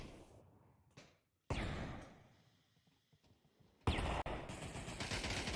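Gunshots in the virtual-reality shooter Pavlov VR during a competitive team match, with two abrupt, loud bursts of fire breaking through otherwise quiet stretches.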